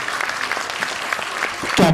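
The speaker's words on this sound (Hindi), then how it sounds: "इसको बोलता है तालियां, बोलता ना एकदम झकास तालियां।" Children applauding at a school annual function, a brief burst of dense clapping with voices mixed in and a loud vocal note at the very end.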